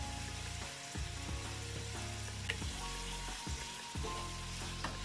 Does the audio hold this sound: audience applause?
no